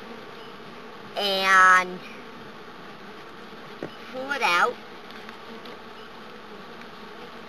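Honey bees hum in a steady, soft drone around an open hive during a powdered sugar check, while someone speaks briefly and faint clattering comes from handling the hive.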